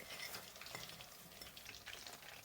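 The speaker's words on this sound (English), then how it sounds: "you can take it out and then continue to fry the remaining chicken" Soft, steady sizzling and crackling of chicken frying in oil, with faint stirring clicks, quiet and continuous.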